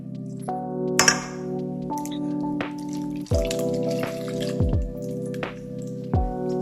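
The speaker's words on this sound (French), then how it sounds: "vous allez verser l'intégralité du lait de coco, c'est-à-dire 400 ml, dans votre poisson" Coconut milk, 400 ml, poured into raw fish for Tahitian poisson cru, heard as wet drips and squishy splashes with a few light clinks, close and moderately quiet, without talk.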